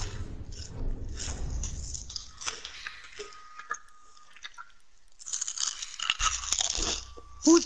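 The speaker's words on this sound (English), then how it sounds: "I'm eating some chips." Sour cream and onion potato chips being eaten close to the mic, giving bursts of crunchy chewing against quieter stretches, with game sounds faintly underneath.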